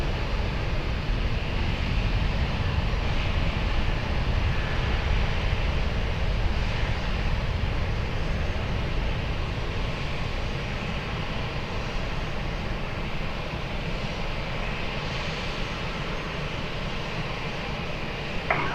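An airliner takes off from runway 20 at Lisbon Airport, a broad continuous engine roar heard from a distance with a windy rumble, steady throughout and without voices.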